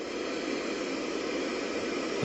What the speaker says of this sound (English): You guys got that static white noise?